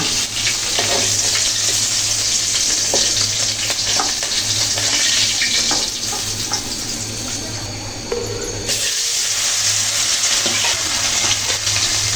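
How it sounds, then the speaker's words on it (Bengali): Bata fish pieces fry in hot oil for a Bengali fish curry, giving a loud, close, continuous sizzle that briefly dips near the end before resuming. "মাছগুলো ভাজা ভাজা করে ভেজে নিলাম"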